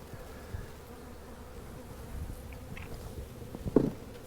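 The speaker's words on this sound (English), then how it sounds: "You can see these bees are now giving her a little retinue." Honey bees buzz around a nuc box during installation, a faint, steady hum that stays low throughout, with a brief louder bump near the end.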